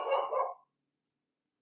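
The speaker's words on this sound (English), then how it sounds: "And that's my dog." A single dog bark heard alone, a short loud burst lasting about half a second that fades quickly, followed by near silence and one tiny click.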